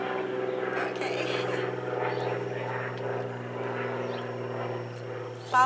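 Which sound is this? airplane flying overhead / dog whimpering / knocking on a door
airplane flying overhead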